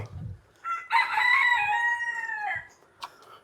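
A rooster crows once, loud and close, a long wavering call lasting about two seconds, with a brief low thump before and a short sharp noise after.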